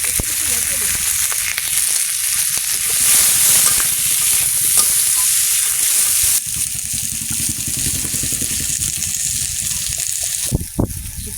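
Potatoes and green chillies fry in a pan with a loud, continuous sizzle and occasional stirring scrapes. A sharp clatter comes near the end.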